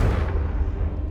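A Confringo fire spell bursts in Hogwarts Legacy as a single heavy, booming blast that rolls out and decays over about a second, loud and close.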